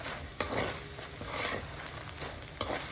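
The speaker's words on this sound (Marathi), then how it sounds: "मी डिंक अजून तळायचं" Edible gum (dink) frying in a pan for laddoos, a soft, steady sizzle with two sharp clinks of a spoon against the pan, close but quiet, no talking.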